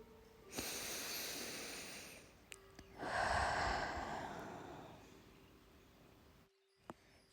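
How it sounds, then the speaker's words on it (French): Slow, calm breathing, a soft inhale through the nose followed by a longer exhale through the mouth, close and quiet against faint background hiss. "Inspirez doucement par le nez et expirez"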